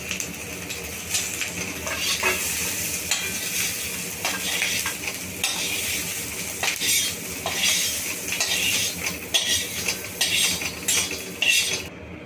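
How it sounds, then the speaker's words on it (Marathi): A metal spatula scrapes and clinks against a hot iron tava as dry-roasted masala with coriander seeds is pushed onto a plate, in irregular scraping strokes with faint sizzling and no voices. "मस्तपैकी आपला मसाला भाजून झाला आहे आता आपण प्लेटमध्ये काढून घेऊ"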